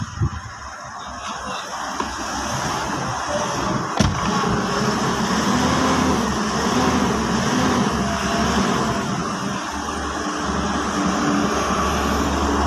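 A Mitsubishi Strada pickup engine, one that keeps stalling because of a very dirty fuel tank, idles steadily with a low, even drone and a faint click near the start.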